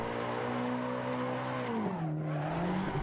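A drifting car in Assetto Corsa holds a steady engine drone, then its pitch dips and recovers as tires squeal into a slide, with a brief hiss of skidding near the end.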